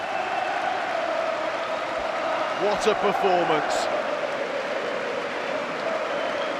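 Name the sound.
stadium crowd applause and standing ovation for Raúl Jiménez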